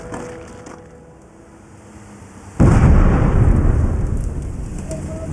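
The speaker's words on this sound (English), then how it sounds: "There's been an explosion outside the camp, close enough to concern the garrison and the medics." A quiet, steady hum near a military camp in Afghanistan suddenly gives way to a loud, deep explosion whose rumble rolls on and stays heavy for several seconds.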